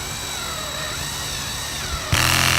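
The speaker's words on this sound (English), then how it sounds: "I also set the clutch to my drill at an easy setting so I don't overscrew into the aluminum" A power drill on a low clutch setting whirs steadily at close range, its motor pitch wavering slightly, then jumps louder near the end as it drives a screw into aluminum.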